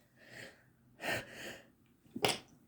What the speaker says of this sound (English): Sneeze on a Monday, sneeze for danger.